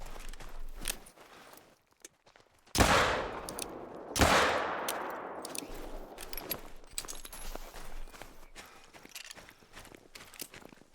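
Two loud pistol shots from theHunter: Call of the Wild, about a second and a half apart, each leaving a long echoing decay over quiet outdoor game ambience and soft footsteps.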